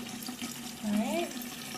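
Water runs from a sink tap while an aromatherapy diffuser is being cleaned, a steady soft splashing stream close by that briefly rises and swells, with a voice speaking faintly over it.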